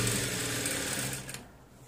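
Sewing machine stitching elastic onto children's pants, running steadily with a close, continuous whirring hum that cuts off near the end.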